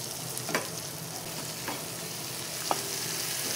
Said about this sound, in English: Once the vegetables have a little bit of time to saute and soften up a little bit